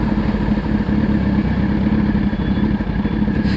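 A motorcycle engine running steadily with the clutch lever squeezed in, a loud close idle with a dense, even rumble and mechanical clatter and no talking.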